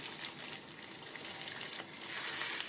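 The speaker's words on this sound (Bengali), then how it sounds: "যেমন চিকেন অনেকে ভেজে নেয় সেইভাবে মাটনটাও আমি ভেজে নিচ্ছি" Mutton and rendered fat sizzle in hot oil in a pan, a steady crackling hiss that stays fairly soft throughout, with no voices over it.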